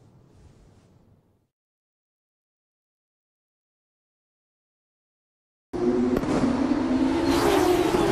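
Race cars in an F2 season finale at Abu Dhabi in a video game burst in after a faint murmur and a long silence, a loud, steady engine roar with whooshing passes over the final seconds.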